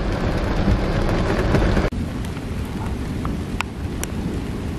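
Heavy pouring rain drums steadily on a car driving through an old oak-grove cemetery, a dense, constant wash of close patter with a brief dip near the two-second mark and no voices.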